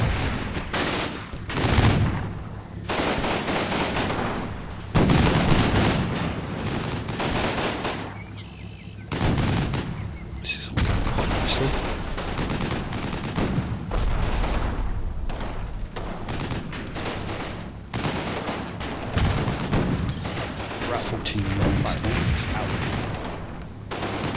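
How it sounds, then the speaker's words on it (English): Steady, heavy gunfire and booming blasts as a tank shoots at a farm barn in the Combat Mission war game, a dense continuous barrage with someone talking over it. "my tank here, shooting at uh, this building, this barn"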